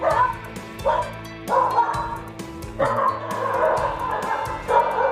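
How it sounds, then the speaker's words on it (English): Several dogs bark and yip in repeated bursts, some whimpering between them, fairly close and loud with a busy, overlapping rhythm. "Hello, doggies. The attack puppies are here."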